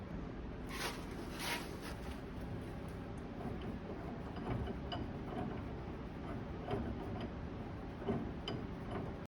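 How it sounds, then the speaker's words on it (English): A ratchet wrench tightens all-thread rod on a Ford Thunderbird front end: a series of quiet, close ratcheting clicks in irregular bursts over a steady background hum. "Now I'm tightening up the all thread there, and get the ratchet wrench on it,"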